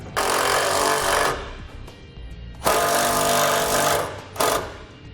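A power tool drives a self-tapping screw into a Ford truck body to ground a Firestone Air Command heavy-duty air compressor wire, giving three loud, close buzzing bursts separated by short pauses, with no talking.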